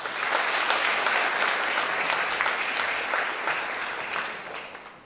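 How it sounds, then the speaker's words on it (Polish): Sustained applause fills the hall at the Leszczyńskie Laury Oświaty 2017 education award ceremony, dense and steady before tapering slightly at the end. "Jeszcze raz wielkie brawa."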